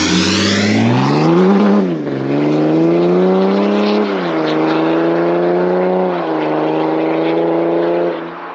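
BMW 530d M Sport with its 3-litre diesel pulling hard under acceleration, a loud, close engine note climbing in pitch through several gear changes, each shift briefly dropping the revs before it rises again.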